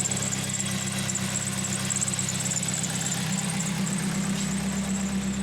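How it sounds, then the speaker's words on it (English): A 2004 Toyota Celica GT idling with a loud exhaust leak, giving a steady droning hum with a raspy, hissing edge, close and continuous with no talk. "there's also an exhaust leak. It's really, really loud."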